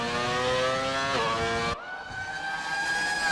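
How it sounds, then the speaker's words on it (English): A Mercedes race car in a racing video game roars at high revs, its engine note climbing and then dropping abruptly as it shifts, with harsh buzzing harmonics throughout. "That Mercedes sounds lovely"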